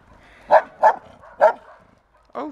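Dogs bark in the distance on a morning walk: four sharp barks spaced about half a second apart, then a short pause and a fifth, otherwise quiet.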